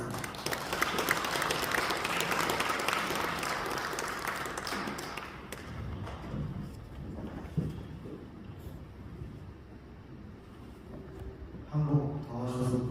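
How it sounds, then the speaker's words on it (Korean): Loud, sustained applause from a church congregation welcoming a pastor to preach fills most of the stretch, a dense wash of clapping that gradually thins toward the end. "큰 박수로 모시도록 하겠습니다"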